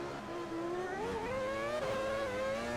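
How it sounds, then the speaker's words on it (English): Late-1990s Formula 1 V10 engines in the Automobilista 2 racing game at Monaco, with a single high-pitched engine note rising and falling steadily as the car accelerates, close and sustained with no talk. "as I let you enjoy the sounds of the V10 engines for now"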